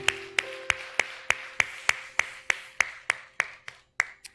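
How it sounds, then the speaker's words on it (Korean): At a church dawn prayer service, about fifteen sharp, evenly spaced claps ring out in a steady rhythm with a slight room echo, a clear, moderately close beat that gently slows toward the end. "우리 이 밤에 함께하신 하나님께 영광의 박수 올려드리길 소원합니다"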